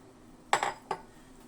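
A metal pot lid set back onto a pot of simmering egg soup with pechay leaves, two quick metallic clanks close by, the second lighter, in a quiet kitchen.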